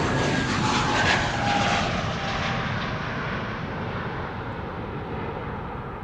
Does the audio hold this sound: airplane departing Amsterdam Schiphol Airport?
yes